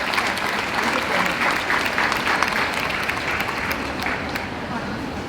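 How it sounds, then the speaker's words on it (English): Audience applause at a valedictory function fills the hall, a steady dense wash of many hands clapping that holds loud and even throughout with no pauses. "big round of applause for Gauri."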